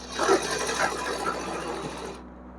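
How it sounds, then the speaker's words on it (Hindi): A sewing machine stitches a thin seam on a small dhoti dress for a Laddu Gopal figure, running in a steady close whir before stopping abruptly. "तो इस तरीके से बिल्कुल पतली सी इसमें हम सिलाई लगा देंगे।"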